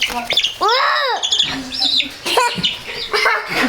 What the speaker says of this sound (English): That's Mommy's chicken.